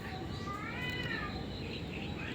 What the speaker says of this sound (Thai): เสียงแมวบ้านใครร้อง